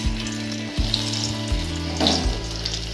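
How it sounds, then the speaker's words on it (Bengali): Turmeric-coated potatoes fry one batch at a time in white oil in a kadai, giving a close, steady, loud sizzle with brief stirring bumps and no voices. "দিয়ে আমরা আলুগুলোকে ভেজে নেব এক এক করে।"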